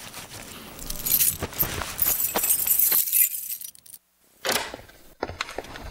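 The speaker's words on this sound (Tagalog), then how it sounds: "kunin ko lang yung susi ko sa bag" Keys jangle and clink as they are pulled out of a bag, a close metallic rattling in bursts with brief pauses and a short silence midway.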